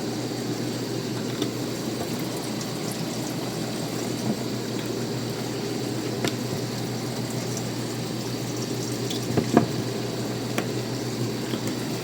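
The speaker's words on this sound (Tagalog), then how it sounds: "Pupuno na tayo ngayon ng tubig." Water filling a container during a brownout setup for mud crabs, a steady dense rushing and gurgling flow that stays even and moderately loud throughout, with a low mechanical hum beneath and no talking.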